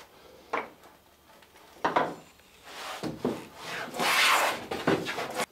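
A hand plane shaves the bevel of a timber plank on a clinker-built boat, with several close, rasping strokes of uneven length, the later ones longer and more drawn out, in a quiet workshop.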